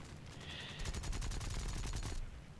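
Guns of an A6M3 Zero fighter firing in War Thunder, a rapid rattling stream of shots lasting about a second and a half, fairly close and loud over a low engine drone, then cutting off.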